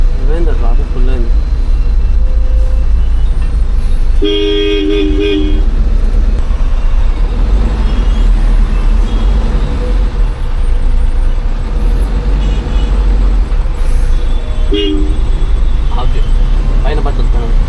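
Heavy traffic on a highway near Dupadu in Kallur mandal, Kurnool, with a loud continuous engine roar from trucks and buses, a couple of sharp horn toots, and someone talking over it.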